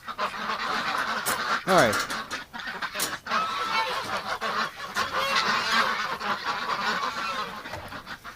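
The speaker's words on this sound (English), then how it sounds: "look at this, barn is full of ducks" A barn packed with ducks, including Muscovies, gives a dense chorus of honks and quacks throughout, close and busy, with a person speaking briefly among them.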